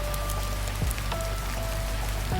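Steady rain falls on a steep-pitched roof of a small two-storey hotel among wet trees, a dense, even hiss with scattered heavier drips and a few low thuds, no voices.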